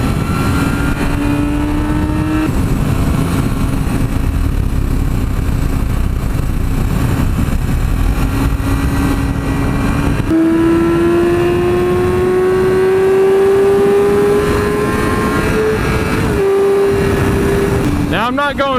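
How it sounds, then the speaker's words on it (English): A 2017 Yamaha R6 motorcycle riding around curves: a steady, loud engine drone that climbs in pitch and drops at each gear shift, under constant rushing wind noise throughout. "just trying to kind of show a little bit of an idea of what it's like riding this bike around curves"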